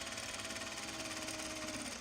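A sewing machine runs steadily while stitching a Japanese fabric bag, a close, continuous rapid mechanical whir without pause.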